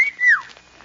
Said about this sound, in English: You just whistle like this.